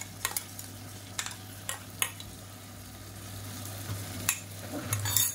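Freshly ground ginger and garlic paste, about 50 grams, sautéing with onions in a pan for brinji rice: a quiet steady sizzle with a few sharp spoon scrapes and taps against the pan.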